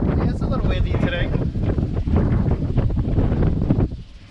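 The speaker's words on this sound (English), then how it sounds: "Yeah, it's a little windy today." Strong wind of about 20 knots buffets the microphone on a sailboat motorsailing up the Florida coast, a loud roaring rumble that cuts off abruptly near the end.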